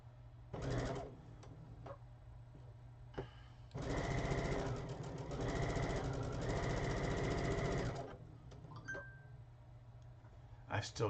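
Home sewing machine stitching quilt pieces, running in a short burst then a long steady whir of several seconds, with a soft hum between runs and brief clicks near the end.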